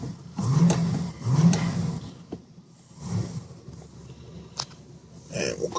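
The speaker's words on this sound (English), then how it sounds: "I'll give a couple little revs here." The engine of a 1965 Buick Electra 225 revs a couple of times, two deep rising blips followed by idle and a later swell, fairly close, with a voice faintly present.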